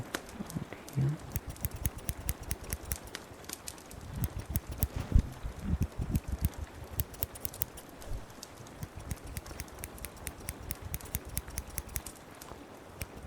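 Scissors trim fabric for a tailored outfit, close and intimate, a steady run of crisp, rapid snips and cuts that continues without pause and with no talking.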